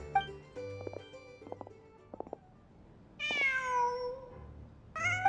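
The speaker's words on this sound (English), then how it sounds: "Just a cat." A cat in the Genshin Impact video game meows in several short, clear calls, followed by a longer, rising and falling meow, over a soft low background hum, with no talk.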